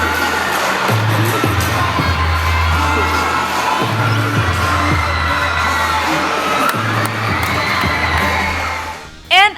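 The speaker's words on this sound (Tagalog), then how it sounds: "Non-stop hiyawan, sigawan at tilian, lalo nang makita nilang mag-perform ng malapitan ng kanilang mga idolo" Fans at a mall show in SM Fairview screaming, shrieking and cheering nonstop as their idols perform up close, a loud dense crowd roar with heavy bass thumps from the stage music underneath.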